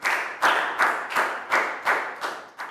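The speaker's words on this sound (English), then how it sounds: "And big round of applause again, guys." Steady, evenly paced clapping rings out in applause for students during an English class, about seven sharp, close claps with no voices.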